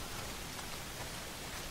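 Steady rain hisses down continuously in the video game Days Gone, a soft even wash of falling drops with no voices over it.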